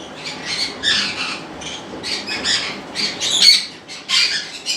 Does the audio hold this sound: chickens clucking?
no